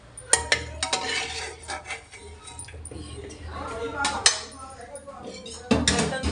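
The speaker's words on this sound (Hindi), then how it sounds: "बर्तन थोड़े से ये कर लूँ" Dishes and cutlery being washed at home give scattered clinks and clatters of pots and utensils over running background, with someone talking at times between the knocks.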